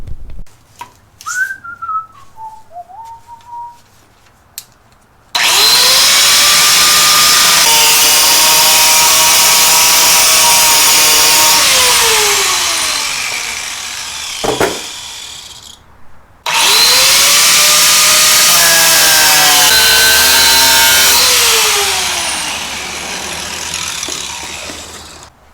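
A power saw cuts halfway through a clamped metal engine cradle for a 671 Detroit Diesel, in two long loud passes with a rising and falling whine, separated by a short pause, with a faint whistle just before.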